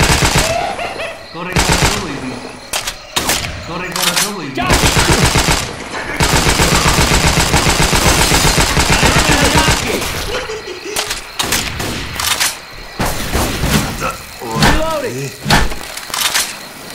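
Automatic machine gun fire from the zombie shooter Left 4 Dead 2, in a Resident Evil Hard Rain mod, rattles in dense bursts with a long sustained stretch midway, mixed with other game noise and a voice speaking.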